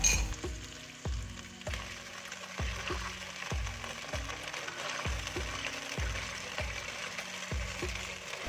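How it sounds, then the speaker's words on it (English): Sauce hits a hot pan with green onion, garlic, ginger and chili and is quickly stir-fried for Chinese eggplant. A loud, steady sizzle runs throughout, cut by regular scraping stir strokes about every half second. "Add the sauce to your pan and quick stir."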